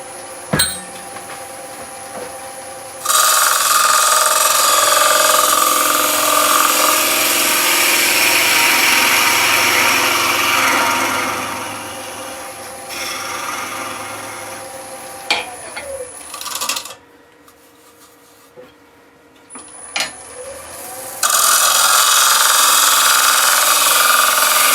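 A wood lathe turns a bowl made of resin and wood, the gouge cutting with a steady broadband shaving hiss for long stretches, broken by short pauses and a quieter gap before the cutting resumes.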